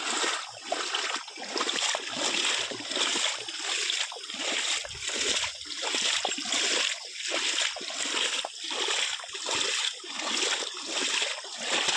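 Floodwater streams and splashes over a flooded road beside a submerged fishery, a steady broadband rushing and sloshing that continues loudly throughout with no talk.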